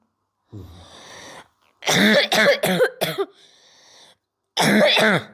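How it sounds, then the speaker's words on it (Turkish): A 12-year-old child with a long-lasting cough coughs in harsh, rapid bursts, several coughs clustered together and more after a short pause, close and loud. "Bu öksürük beni gece de uyutmuyor."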